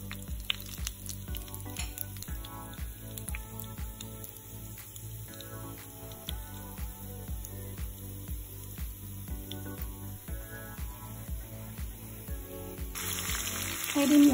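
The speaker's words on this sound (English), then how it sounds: "Heat up about 4 tablespoons of oil in a pan and add in your spices. Allow it to cook for a few minutes until you hear it popping." Spices crackle and pop in about four tablespoons of hot oil in a pan, a steady fine sizzle with scattered sharp pops running throughout, close and moderately loud, with music playing underneath.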